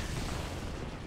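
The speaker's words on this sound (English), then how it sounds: "Are shooting bullets at my face and I can only lose so many teeth before they make it through" Gunfire in the Halo 2 video game, a brief dense burst of rapid shots and impacts, loud and continuous across the whole moment.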